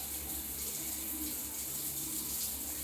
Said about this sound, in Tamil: தண்ணி வருது, ஆனால் ப்ரெஷர் இல்லை.